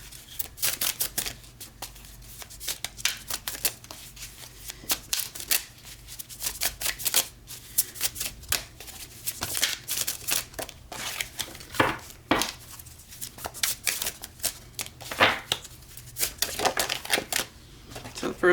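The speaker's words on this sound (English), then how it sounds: "I could shuffle them and just pull out one, but I like to do it this way" A deck of tarot-style cards is shuffled by hand in a steady run of crisp riffles and flicks, close up, with soft talk now and then.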